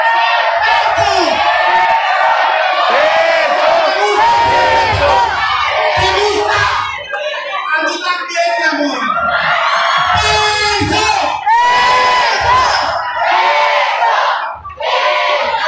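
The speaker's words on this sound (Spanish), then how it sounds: "La gente está prendida al grito de Apocalipsis" A packed lucha libre arena crowd chants and cheers loudly and continuously through a Cibernetico tag match, with whoops and yells rising and falling in waves.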